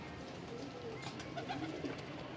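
Punjabi pigeons, including a red cheeni with white eyes, at a seller's place in Chhatarpur village, Delhi, giving soft low coos close by over a steady background hum.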